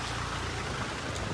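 Heavy rain pours down steadily outdoors, a dense broadband hiss of drops beating on surfaces that holds even and loud through the whole moment with no voices.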